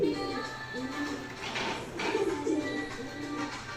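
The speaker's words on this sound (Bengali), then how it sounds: "এটা কি কবুতর ভাই?" Pigeons kept for flying displays calling nearby, a continuous low cooing hum with soft overlapping coos and some background chatter under it.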